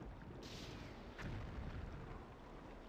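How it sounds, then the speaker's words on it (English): An explosion in a video game bursts out once near the middle, a short broadband boom over steady background noise, with no voices. "Sound like an explosion."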